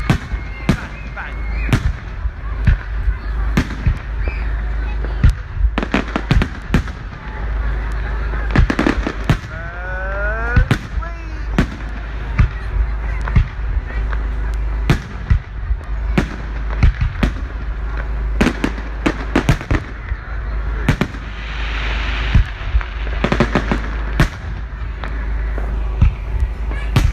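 A rapid, irregular barrage of fireworks bangs and crackles keeps going without a break at the Manor Fields display on 5 November, with a few rising whistles among the blasts and voices faintly underneath.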